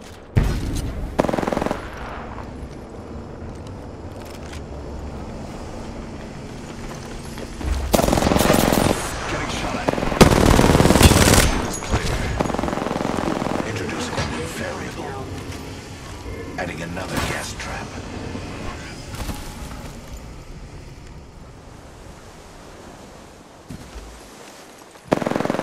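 Gunfire in the video game Apex Legends: bursts of automatic shots over continuous game noise, heaviest midway through, with players talking over the action.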